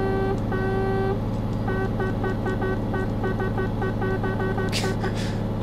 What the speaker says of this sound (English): It's got such a Nancy horn on it, really. It's, I mean, come on, this is a Kenworth.